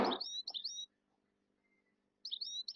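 Pet birds chirp close by in quick bright bursts of tweets, pause into near silence, then chirp again.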